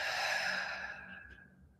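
A deep, slow exhale at the close of a breathwork round, a soft airy breath that starts full and fades gradually to quiet, heard alone and close.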